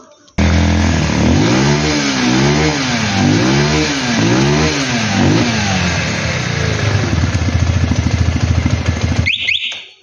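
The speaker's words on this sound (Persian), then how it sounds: "اگه تایم موتور درست باشه به این خوبی گاز خوردش عالیه" A 200cc motorcycle engine, freshly re-timed after a timing-chain adjustment, revs up and down in several quick close throttle blips, then settles into a fast, steady idle before cutting off.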